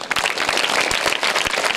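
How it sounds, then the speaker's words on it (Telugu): A crowd at a Rotary Club bunk-bed handover at a KGBV school claps for the governor: a brief, dense, even patter of many hands, close and fairly loud. "గవర్నర్ గారికి చప్పట్లు కొట్టాలి"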